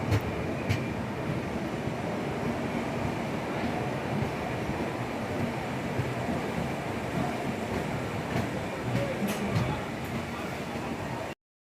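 The Tamil Nadu Sampark Kranti superfast express pulls into platform four at Ballarshah Junction station in Maharashtra. A steady rumble of wheels and carriage noise fills the whole span, with faint clanks now and then.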